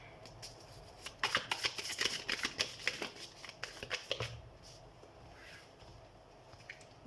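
Tarot cards being shuffled in a rapid, crackling riffle of close papery flicks that build and then trail off into quiet.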